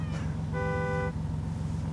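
Outdoors on a cold, unpleasant night in London, a cat gives a single drawn-out meow over a constant low hum of traffic and wind, close to the listener and fairly clear.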